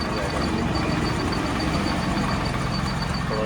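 A scooter engine runs steadily after a service, a continuous dense droning rumble that holds the same loudness throughout, close and unbroken.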